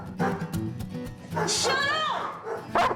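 Domestic dogs bark and yip in short, excited bursts, with a brief whine, while a person shouts sharply over them at close range.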